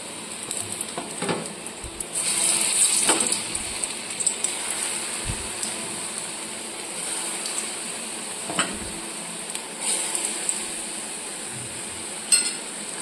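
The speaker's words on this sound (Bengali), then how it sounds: "এরপর এখানে একে একে বেসনগুলো ভেজে নেব।" Gram flour (besan) frying in hot oil over a low flame, a steady crackling sizzle with occasional stirring scrapes and soft knocks, close and continuous with no voices.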